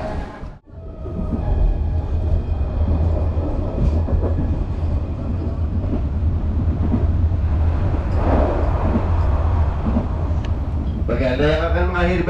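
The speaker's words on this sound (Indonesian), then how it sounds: "Kereta api lokal Walahar sekarang ini sudah tiba di stasiun Karawang." Walahar local train pulling into Karawang station, a steady loud rumble of wheels and carriage noise with rhythmic clatter throughout, a brief dip early on and a squealing, whining tone near the end as it slows.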